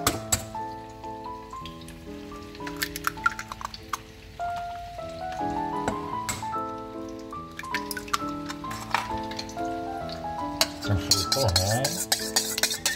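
Two eggs being stirred into flour and red pepper in a bowl, soft scraping and tapping of a utensil set against a steady musical backing.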